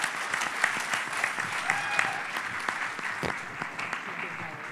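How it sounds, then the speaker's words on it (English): Applause from the crowd at a closing ceremony, many hands clapping briskly and fairly close, with a few louder individual claps and faint voices mixed in. "please give him a round of applause"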